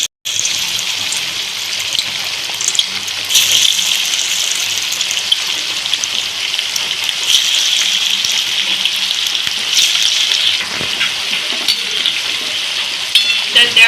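Chicken pakoras deep frying in white oil in a wok, a dense steady crackling sizzle that runs loud and unbroken throughout, with brief bubbling swells and no talk over it.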